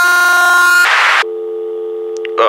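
A loud, steady electronic telephone busy tone after a dropped call, close and alone, briefly interrupted by a burst of static hiss.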